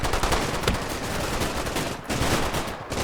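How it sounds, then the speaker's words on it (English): Dense, continuous small-arms gunfire from soldiers on a firing line in a company-sized WWII wargame battle between German panzergrenadiers and British paratroopers, with overlapping rapid shots and bursts, loud and unbroken, with no talking. "They've got guys on the firing line shooting still."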